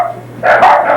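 A puppy barks in a home kitchen, one loud close yip-like bark arriving abruptly after a quiet moment, with no speech over it.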